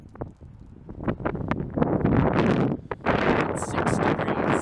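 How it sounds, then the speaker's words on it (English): Strong wind gusts outdoors on a cold winter day, a loud roaring, buffeting rush that swells and dips with brief lulls, close to the microphone. "It's really windy, but there's no snow."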